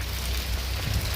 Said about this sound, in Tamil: காற்று மழை பெஞ்சிட்ருக்கு